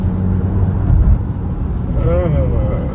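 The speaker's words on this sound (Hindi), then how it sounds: "रोड नॉइस बहुत ज्यादा है टायर की" Tyre road noise inside a moving 2026 Maruti Brezza CNG facelift: a steady, loud low rumble fills the cabin, with a brief voice near the end.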